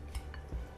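A spoon stirs instant noodles in a bowl, giving two soft clinks of metal against the dish, faint and close with no talk.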